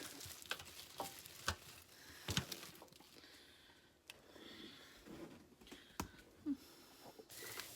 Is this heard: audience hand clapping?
no